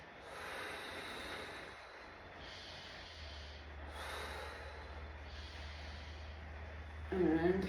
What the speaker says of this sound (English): And 3 breaths through your nose.